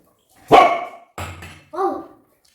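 A dog in a family home barks three times, one sharp bark followed by two shorter, softer ones with brief gaps between, close by and alone.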